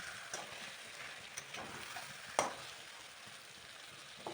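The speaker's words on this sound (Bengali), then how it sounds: "এখানে প্রথমে অল্প বাঁধাকপি দিয়ে এগুলোকে আমরা মিশিয়ে নেব মশলার সাথে।" Cabbage being mixed with spices in a hot pan, a soft steady sizzle with occasional scraping stir clicks, fairly faint and close, without talk.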